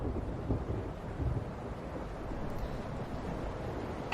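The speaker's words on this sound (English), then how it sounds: "That's some heavy rain noises. Jesus, that's loud." Heavy rain pours steadily in The Wolf Among Us video game, a dense, even wash of noise with faint low rumbles underneath, no voices.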